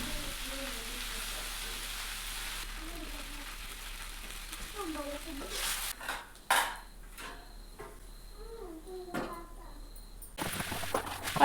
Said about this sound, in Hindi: और मैं लग गई हूँ बर्तन धोने में।